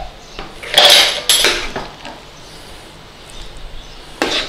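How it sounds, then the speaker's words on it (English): Metal utensil scraping and clanking as corned beef hash is transferred from a pan into a baking dish, a few loud clattering scrapes close up with quieter gaps between them. "So let's transfer that to our baking dish."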